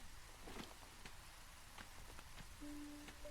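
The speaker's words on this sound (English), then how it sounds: "Especially with the rain sounds." Soft, steady rain ambience from the colony-building video game Against the Storm, a faint continuous patter with scattered drop ticks and a quiet musical tone near the end.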